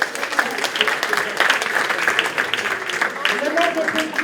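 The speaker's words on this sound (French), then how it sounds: "on peut encore l'applaudir une fois d'être là" An audience at an evening event applauds a guest again, steady close clapping with a voice or two rising through it near the end.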